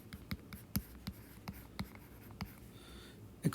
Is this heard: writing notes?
yes